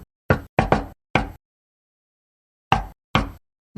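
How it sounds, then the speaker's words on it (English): Knuckles rap on a door in two groups, a quick run of four sharp knocks followed after a pause by two more, close and crisp against dead silence. "That's a door knock."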